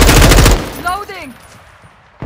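Gunfire in the video game Modern Warfare 2, a rapid loud burst of automatic shots at close range that stops abruptly, followed by a quick descending mechanical ring and a quieter tail, then another shot cutting in at the end.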